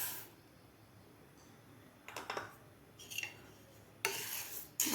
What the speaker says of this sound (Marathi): मी इथे एक जडबुडाचा पॅन ठेवलेला आहे तर यामध्ये आपल्याला हे गहू घालून घ्यायचे आहेत